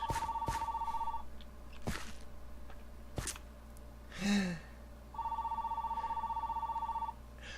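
Indoor telephone ringing in a repeating electronic trill, two bursts a few seconds apart, with scattered clicks, a short gasp-like breath and thumps in between.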